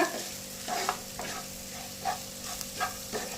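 Sweet corn bhurji is stirred in a frying pan, with repeated scraping strokes of the spoon at a loose rhythm over a soft, continuous sizzle, close and alone without talk.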